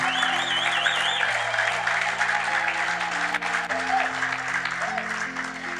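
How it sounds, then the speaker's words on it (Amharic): A church congregation claps during a Christian preaching service, giving a sustained wash of applause. Keyboard notes ring out and a voice speaks over the clapping. "ይሄ ጭብጨባ አይሆንም"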